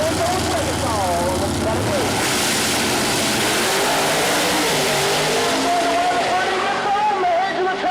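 Nitrous Pro Mod door-slammer drag cars roar down the strip at a dragway, a loud, dense engine blare with sweeping pitch changes as the cars accelerate and pass, continuous to the end.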